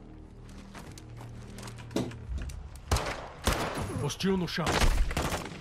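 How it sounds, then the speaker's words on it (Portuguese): Gunfire in the Call of Duty Modern Warfare 2 (2022) campaign, with several loud sharp shots and bursts in the second half, while someone talks over the action. "Acabei de dar um tiro na cabeça dele."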